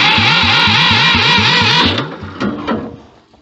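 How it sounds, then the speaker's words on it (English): A Ford 2000 tractor engine with choke and throttle being adjusted runs in a fast, regular chugging rhythm, loud and close, then the revs drop away and it sputters as it cuts out. "Maybe a bit less choke,"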